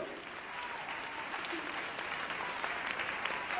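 Church congregation applauding during a worship service, a steady wash of many hands clapping at moderate distance, with voices mixed in underneath.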